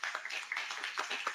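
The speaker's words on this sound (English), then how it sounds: "So, let's give our round of applause." Light, scattered clapping from a small crowd at a community meeting hosted by a member of parliament, individual claps audible in an uneven rhythm, fairly quiet and brief.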